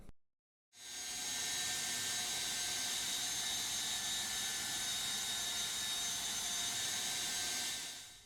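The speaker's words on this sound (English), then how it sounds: "we're going to go ahead and prime the oiling system on it" Priming the oiling system on a 1982 Mustang GT engine that had sat unused for a long time: a steady, loud mechanical whir with a high whine starts after a short silence and runs unbroken for about seven seconds.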